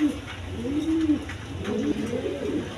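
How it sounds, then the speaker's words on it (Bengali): Pigeons cooing nearby, two soft, rolling coos in a row under a low background hum. "এইখানেও এক পেয়ার কবুতর আছে"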